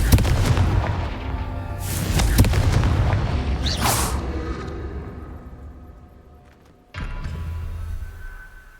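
Confringo blasting-spell explosions in Hogwarts Legacy: several sharp, loud bursts with deep booming tails, spaced a second or two apart, then a sudden final blast after a quieter stretch.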